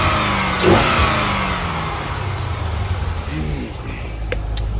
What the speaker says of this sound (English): I'm hearing some like intake noise.